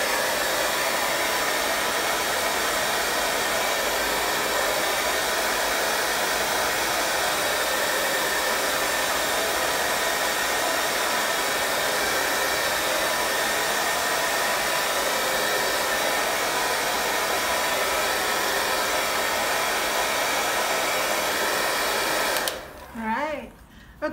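A hair dryer blows steadily on a moonlight painting in progress, a loud continuous whooshing roar that holds for over twenty seconds before cutting off abruptly near the end.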